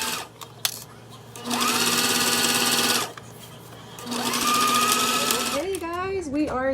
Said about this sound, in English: And now we're just gonna sew this.